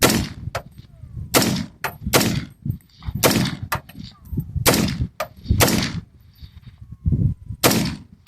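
Gunshots from a BCA-10 gun crack out close and loud, about ten sharp reports in an irregular rhythm with brief gaps between them.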